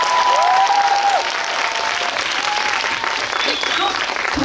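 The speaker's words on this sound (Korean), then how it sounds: "박수 한번 주세요" Audience applause at a Korean film Q&A screening for The Moon, dense steady clapping from a large crowd filling the room, with a few faint tonal squeals and voices mixed in.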